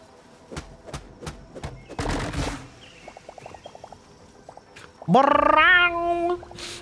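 A pet cat indoors gives one long, loud, drawn-out meow near the end, following a few scattered thumps and clicks in an otherwise quiet room.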